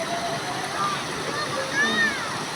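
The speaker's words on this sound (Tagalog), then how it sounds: "nagkaroon po dito ng falls" A river waterfall at Sitio Sales, its broad steady rush of falling water filling the whole clip at moderate distance, with faint chirps above the flow.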